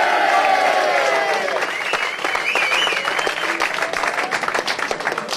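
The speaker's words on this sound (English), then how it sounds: "a round of applause for head coach Tony Smith" Crowd at a Leeds rugby league season celebration applauds head coach Tony Smith, a loud, sustained wave of clapping with cheers and whistles riding over it, tapering slightly toward the end.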